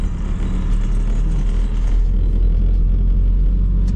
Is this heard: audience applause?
no